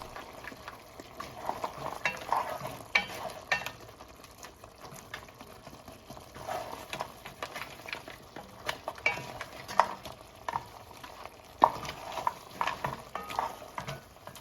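Egg being gently stirred into a yellow curry crab sauce in a hot pan, with a soft steady sizzle and repeated scraping and stirring strokes running throughout at moderate volume.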